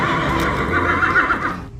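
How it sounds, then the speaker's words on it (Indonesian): A toy zebra gives a recorded horse whinny, one loud, bright neigh lasting under two seconds that cuts off abruptly. "Yang ini ada kuda zebra."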